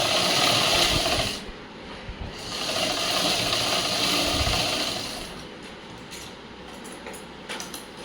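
An electric sewing machine stitches a blouse in a tailoring workshop, running in steady mechanical bursts. A long whirring run, a short pause, then another sustained run fading into lighter intermittent clicks near the end, with no talk.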